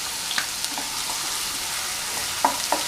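Crushed garlic and ginger fry in hot coconut oil for chicken masala fry, a dense steady sizzle with light spoon taps and stirring scrapes near the end.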